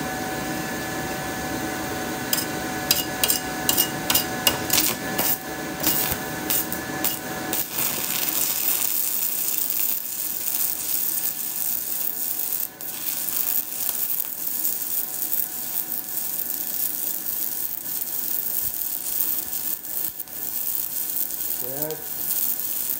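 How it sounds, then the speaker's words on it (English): An Amazon stick welder running at 150 amps gives a steady, continuous crackling sizzle throughout, with a few brief sputtering pops early on and no talk over it. "It's welding pretty good."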